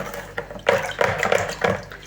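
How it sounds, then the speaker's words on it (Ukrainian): Water, 600 ml for varenyky dough, is poured into a bowl in uneven splashing gushes, loud and close, with no talking. "Вливаю 600 мл води."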